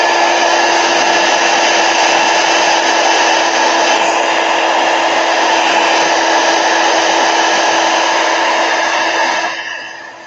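A hair dryer blows steadily over watercolor paint on a Gelli plate, a loud, even, close-up whoosh with a constant motor hum. After about nine and a half seconds it winds down and fades as it is switched off.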